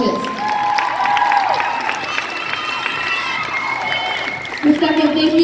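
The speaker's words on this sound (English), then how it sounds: "Another round of applause for all of our coaches." Crowd at a dance competition clapping and cheering for the coaches, with shouts and whoops over steady applause and some voices talking amid the noise.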